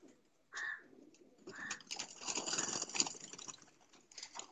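A pet pigeon coos close by in a few short, throaty bursts, followed by a stretch of rustling and soft chatter-like bird noise, with quiet pauses in between.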